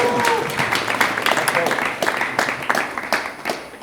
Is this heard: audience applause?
yes